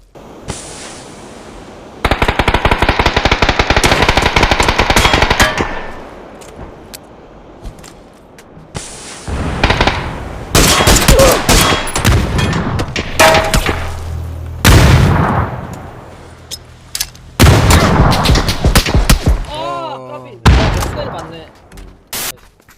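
Gunfire in the PUBG Battlegrounds video game: loud repeated rifle bursts and rapid volleys in several clusters, with short pauses between exchanges and excited players talking over the shooting.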